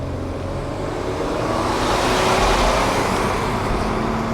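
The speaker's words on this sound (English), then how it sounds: "0 to 60 in the Nissan Murano" Nissan Murano crossover accelerating hard from 0 to 60 in a drag race, a loud continuous engine and road roar that swells steadily, heard from inside the car.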